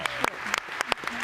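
Audience clapping for a startup pitch at a fintech pitch-off, a brief burst of scattered claps with a few louder hand strikes over a low crowd murmur.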